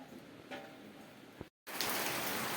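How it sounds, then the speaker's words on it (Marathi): Heavy nighttime rain falling steadily outside, a soft hiss that drops out briefly and then returns louder and denser. "पाऊस इतका मोठा चालू झाला आहे ना तर बघू शकताय बाहेर असा रात्रंदिवस पाऊस चालू आहे"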